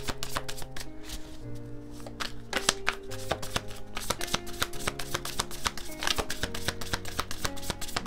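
Tarot cards are shuffled in a steady run of crisp, papery riffles and taps over continuous background music with sustained tones, close and moderately loud throughout.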